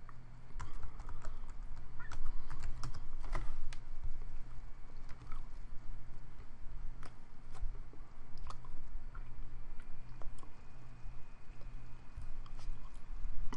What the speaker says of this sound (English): Jeez, I'm typing what I'm saying.